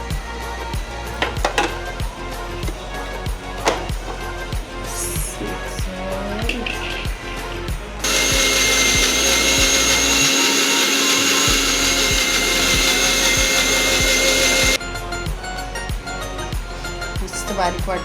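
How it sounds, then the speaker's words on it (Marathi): A mixer grinder grinds cooled roasted masala for misal with a loud, steady whirring roar lasting about seven seconds, while a person talks before and after it over rhythmic background ticking. "चला आता आपण मिक्सरला लावूया."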